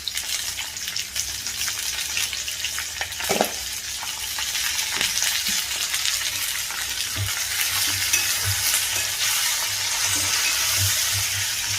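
Brinjal pieces frying with turmeric in a pan, a steady close sizzle with occasional stirring scrapes throughout.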